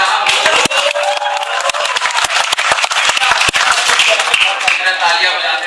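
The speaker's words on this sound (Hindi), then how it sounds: "तालियां बजाते रहिए।" Audience at a Hindi poetry recital in a college hall, scattered sharp claps repeating through the stretch, sometimes bunching, over a hum of crowd and voices.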